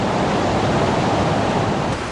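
A delightful stream flows steadily by an old mill with a water wheel, a continuous broadband rush and babble of water, close and even throughout with no voices.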